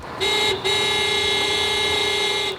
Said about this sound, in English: If you honk once means one thing, and if you honk twice means something else.